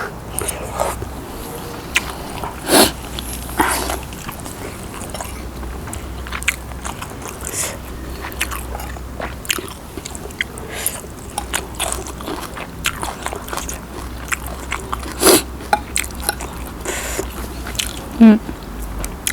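Crisp, crunchy bites and chewing of a fresh Thai mushroom and glass noodle salad with crab sticks repeat irregularly up close, with sharper loud crunches standing out every few seconds, outdoors.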